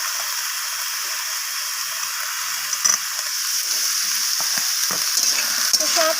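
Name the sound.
potatoes and kohlrabi being stirred and fried in a pan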